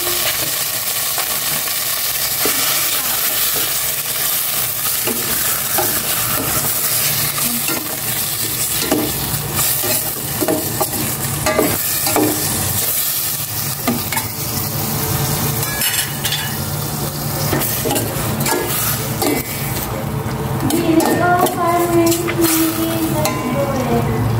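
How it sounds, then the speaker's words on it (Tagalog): Chicken liver and gizzards sauté in a hot pan for adobo with string beans, giving a dense continuous sizzle with frequent scraping and clinking of a spatula being stirred through, loud and close throughout. "Magisa ko na itong maigi."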